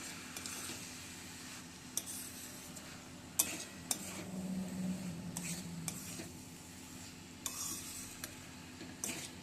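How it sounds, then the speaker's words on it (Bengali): Peas and pre-fried vegetables being stirred together in a pan for a drumstick flower curry, with a steady low sizzle and scattered spoon scrapes and clinks against the pan. "এবার ভালো করে নেড়ে মিশিয়ে নিচ্ছি"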